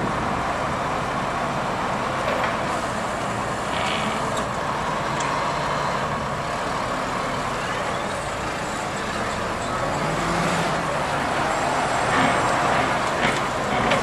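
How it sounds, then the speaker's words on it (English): A Yale GLP050 5,000 lb pneumatic-tire forklift drives along, its engine a steady, continuous rumble with road-like noise, fairly close and alone without talk. "We're going to have Wade take it for a drive for us."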